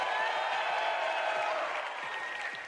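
A large crowd at a live esports event in Copenhagen cheers and applauds in a broad, steady roar that fades slightly toward the end.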